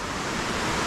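A steady, dense roar of falling water from the Bambarakiri Ella waterfall in Sri Lanka, an unbroken broadband rush with no pauses and no voices.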